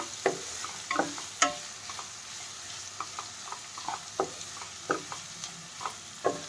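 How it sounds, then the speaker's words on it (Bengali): Spaghetti being stirred in a frying pan over high flame, with repeated scraping and clinking strokes against a faint sizzle, fairly close and without any voices. "বেশ ভালো করে এটাকে নাড়াচাড়া করতে হবে"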